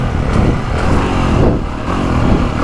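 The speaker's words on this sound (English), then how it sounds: "This engine is amazing." A 2025 Honda CRF450R motocross bike engine roars steadily and loudly up close, a dense continuous rev with slight surges throughout.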